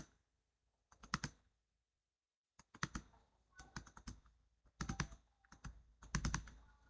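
Computer keyboard typing in an Excel spreadsheet, entering a column label into a cell: close, crisp key clicks in short irregular bursts with brief pauses between them.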